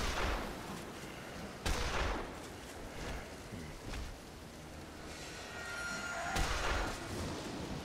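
Shotgun blasts fired in a video game, about three loud booming shots spaced irregularly apart over a steady rumbling, clattering background din, with no talking.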